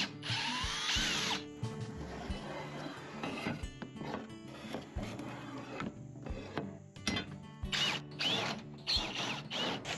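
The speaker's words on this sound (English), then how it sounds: "I'm going to use my Ryobi drill with a star tip to get this done." A Ryobi cordless drill with a star bit whirs in short bursts, with ratcheting clicks and stops between runs, close and fairly loud. Nobody talks.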